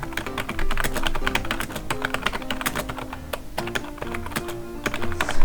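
Rapid keyboard typing, a quick irregular stream of crisp key clicks close to the mic, continuing throughout with no speech.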